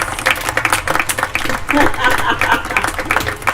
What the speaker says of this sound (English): I'd like for Bill to stand up right now and everyone applaud him.